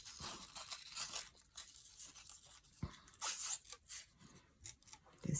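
Strips of crepe-like paper for Flanders poppy flowers are cut with scissors nearby, giving a run of crisp snips, tearing rasps and rustling handling sounds at uneven intervals, with no talking.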